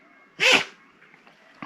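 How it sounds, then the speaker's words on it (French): A dog sneezes once, a short sharp burst standing out clearly against a quiet room, followed by a faint snuffle a moment later. "Ah ben ça c'est le chien qui éternue."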